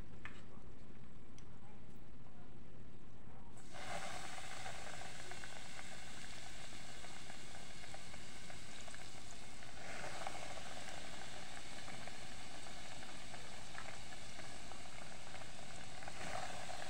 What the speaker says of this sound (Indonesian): Dan kita goreng yang lainnya